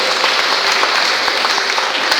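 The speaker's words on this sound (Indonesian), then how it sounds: "Tepuk tangan bagi Tuhan Yesus." A church congregation at a Sunday morning Pentecostal service in Pontianak claps together, a loud, even wash of many hands filling the whole short stretch with no talk over it.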